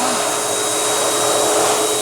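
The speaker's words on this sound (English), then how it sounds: "What we're going to do is show you what the hand dryer is about." A commercial wall-mounted high-speed hand dryer with a drip tray runs continuously at close range, giving a steady, loud broadband whoosh of forced air with a faint high whine and no talking.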